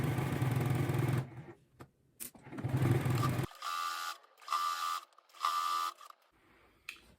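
A sewing machine stitches chain-pieced fabric strips in short whirring runs of about a second each, separated by pauses, following some close handling noise at the start.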